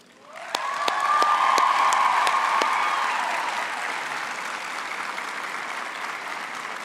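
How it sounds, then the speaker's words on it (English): At a university graduation ceremony, graduates applaud their families, with a few sharp early claps swelling into broad, sustained applause from a large hall crowd, joined by some cheering and whoops before it slowly eases. "I would now like to ask our graduates to applaud their families, friends, and partners for their support over the years."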